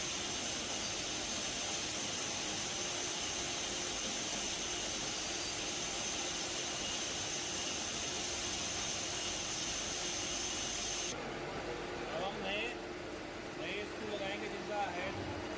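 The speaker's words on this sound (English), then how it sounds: "Flow air for the dust clean and insert the screw" Compressed air blasts dust and chips out of the holes of a CNC turret as a loud, continuous roaring hiss lasting around eleven seconds, after which it cuts to quieter handling sounds.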